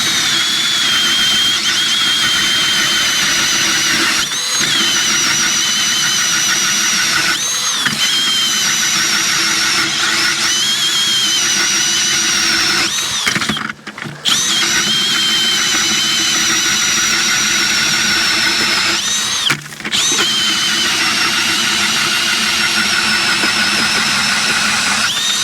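A Milwaukee battery drill powers an auger through thick lake ice at Spray Lakes, Alberta, a loud, steady high-pitched whine running almost continuously with a couple of brief dips and no talk.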